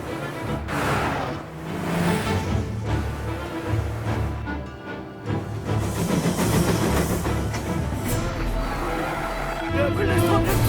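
A train rumbling along in Mafia: Definitive Edition, a continuous loud clatter and roar with voices talking over it.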